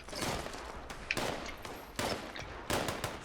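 Gunfire in the video game Fallout 76, with bursts of rapid shots that break into sharp loud cracks at roughly regular intervals, heard up close with no talking.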